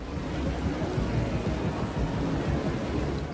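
Heavy rain and rolling thunder in the racing video game Forza Horizon 3 make a dense, steady roar with low rumbles, loud and continuous without talk.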